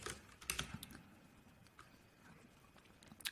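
Someone types a command on a computer keyboard, producing a quick, uneven run of soft key clicks at close range. The clicks are faint and sit over quiet background hiss, with no talking.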